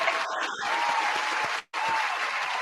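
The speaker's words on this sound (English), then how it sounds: "Everybody give Dave an applause." Live-show audience applauding for Dave, a steady wash of crowd clapping and faint cheering that cuts out abruptly for a moment before resuming, with a voice heard briefly at the start.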